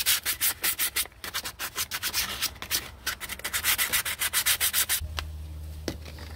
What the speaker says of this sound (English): you might give this a little sanding